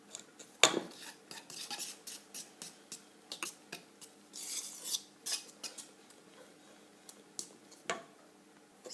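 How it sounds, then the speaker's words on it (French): Whisk beating cupcake batter of eggs and sifted flour in a bowl, a quiet, close run of regular metallic taps and scrapes against the sides with one sharper knock near the start, and no talking. "à mélanger au fouet"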